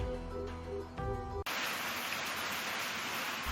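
Steady heavy rain from a storm, a dense hiss of drops falling on surfaces that starts abruptly and continues loud and unbroken after a short stretch of music.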